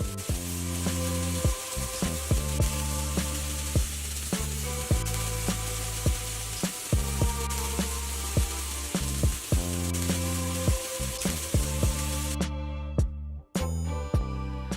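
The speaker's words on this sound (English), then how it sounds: "Enjoy the beautiful sizzling sound with the smoke." Fish sizzler with sauce sizzling loudly on a hot iron plate amid smoke, a steady dense crackle with intermittent sharp pops and clinks of metal, cutting off briefly near the end.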